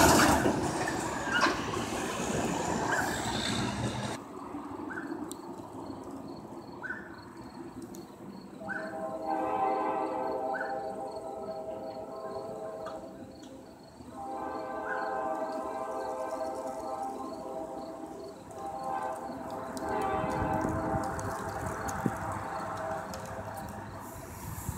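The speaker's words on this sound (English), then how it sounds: "And there it goes, our northbound train." A northbound Winchester & Western freight train rumbles steadily past at a distance in Fairton, with a horn sounding several times over the continuous rolling noise of the cars.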